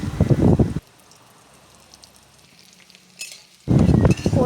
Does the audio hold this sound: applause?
no